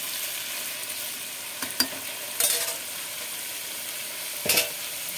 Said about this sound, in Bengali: আমি এই সবজিগুলোর সাথে এই কাঁঠালের আটিগুলো দিয়ে একটু ভেজে নিচ্ছি।